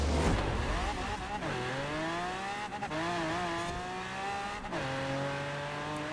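Race car launching in Forza Horizon 4, the engine screaming up to the rev limiter with stuttering cuts, then shifting up and rising again through several gears, loud and continuous with some tire noise.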